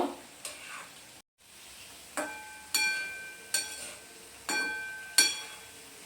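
Flour biscuits fry in oil, a soft crackling sizzle interrupted by a brief silent gap and then a series of bright metallic clinks and scrapes repeating every second or so, close and fairly quiet.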